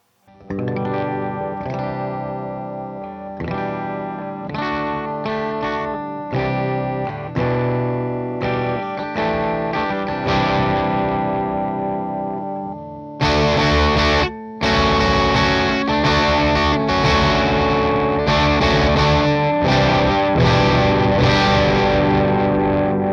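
Electric guitar on a DIY Explorer kit plays chords and riffs through effects, first cleaner with chorus-like shimmer, then switching abruptly to a louder, heavily distorted tone, no talking.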